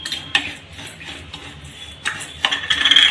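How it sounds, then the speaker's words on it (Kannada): Vermicelli roasts in ghee in a pan over a low flame, with sporadic clicks and scrapes of a utensil stirring against the metal and a faint background hiss. "ತುಪ್ಪ ಹಾಕಿ ಹುರಿತಾ ಇದ್ದೀವಿ"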